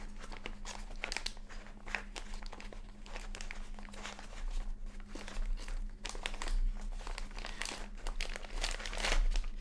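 Plastic blind-box bag with a corded, gathered closure being handled and opened, steady close crinkling and crunching for several seconds with no talk.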